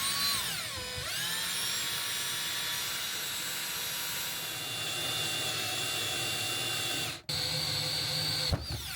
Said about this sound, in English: we're going to be drilling some holes here for the faucets.